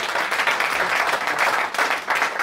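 A church congregation applauds in praise of the Lord, a thick, even wash of clapping from many hands that holds at a steady loudness throughout, with no voices rising above it.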